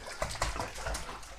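An Apple Head Chihuahua swims and splashes in water, making soft, fairly faint sloshing and paddling sounds with no voices.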